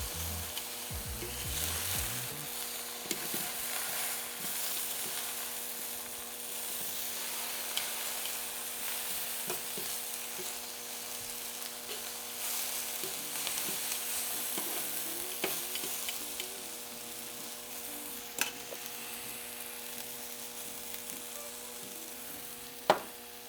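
Nopales and onions sizzle steadily in a pan for Mexican street tacos, a close, continuous frying hiss with occasional small pops and a sharp tap near the end; no one speaks.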